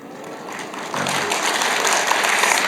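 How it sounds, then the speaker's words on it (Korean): A church congregation claps in a broad, steady wash of applause that swells after a soft start and carries on evenly, fairly close and with no talking over it. "이제 박수 안 쳐도 됩니다."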